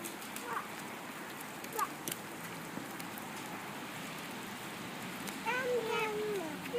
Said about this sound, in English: it's becoming quite wet out here